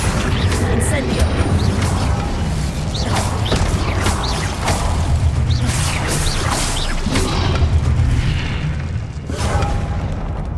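Booming, whooshing spell-casting effects from a Harry Potter video game fire in a dense, loud run of blasts and crashes, one after another, with the player's voice shouting over them.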